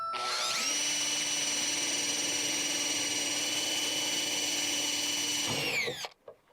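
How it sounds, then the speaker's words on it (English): A power drill whirs loudly at a steady high pitch for several seconds while drilling polycarbonate, then winds down and stops, followed by a few faint clicks. "So let's get drilling."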